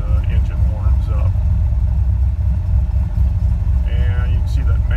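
A 600 hp engine fitted with a Holley Sniper idles around 1,000 RPM on a cold start, a steady deep rumble close by, with someone talking over it.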